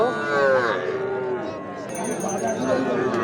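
Cattle, bulls and heifers, moo loudly at a livestock market, long drawn-out lows over a busy background of crowd chatter and people talking.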